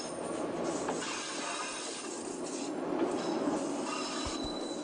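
Light rail vehicle rolling along an old Brazilian railway line, a faint, continuous rumble with wheel squeal and a couple of low thumps from the track near the end, heard alone without voices.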